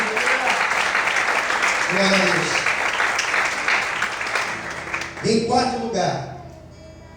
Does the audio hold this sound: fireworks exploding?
no